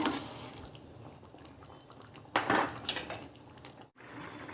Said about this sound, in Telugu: కొన్ని వాటర్ వేసుకొని మళ్ళీ కుక్కర్ పెట్టుకుంటాం.